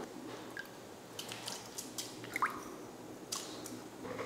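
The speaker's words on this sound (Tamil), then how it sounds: "அவலை கழுவிட்டு நம்ம ஊற வச்ச அரிசி கூடயே இதை சேர்த்துக்கலாம்." Washed flattened rice (poha) being added to soaked rice for idli batter, giving soft wet squishes and small drips, close and quiet, no talking.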